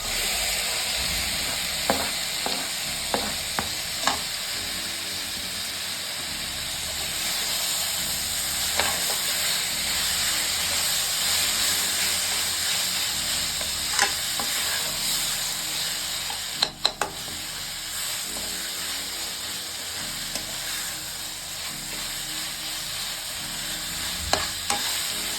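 Tomatoes fry in a pan for prawn thokku, a steady loud sizzle and hiss running throughout with occasional scraping clicks of a spoon stirring, no voices.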